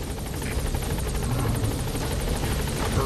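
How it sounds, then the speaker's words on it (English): A helicopter touches down in Metal Gear Solid V: The Phantom Pain, a loud, steady rotor roar with fast rhythmic blade chop that fills the whole stretch, with faint voices under it. "Alright, the chopper's touching down."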